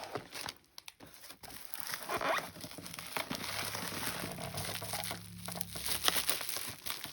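A large plastic package of stationery is opened close up, with bursts of crinkling and crumpling plastic, irregular rustles and brief tearing, fairly quiet, with no speech.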